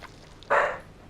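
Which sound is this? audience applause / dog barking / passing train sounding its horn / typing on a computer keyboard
dog barking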